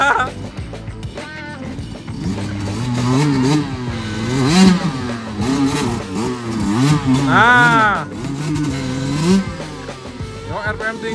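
A motorbike engine revs hard at high RPM while climbing a rough mountain trail, its pitch rising and falling in repeated loud surges, with a person talking over it.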